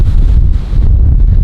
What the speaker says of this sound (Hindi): आज जो मौसम बना है, जो हवा चल रही है